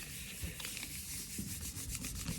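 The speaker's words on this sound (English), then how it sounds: "Give it a nice rub." A hand rubs paper over a gel printing plate with botanical leaves underneath, a quiet, close, dry scuffing in short uneven strokes.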